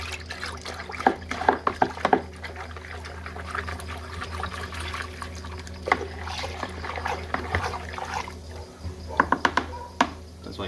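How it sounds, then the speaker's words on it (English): Homemade alcohol wash stirred vigorously to drive out CO2 and mix up the sediment, giving irregular sloshing, liquid splashes and clinks near at hand, busiest at the start and toward the end, over a steady low hum. "get a nice vigorous stir, which gets rid of all the CO2 and mixes all the sediments up into the mixture"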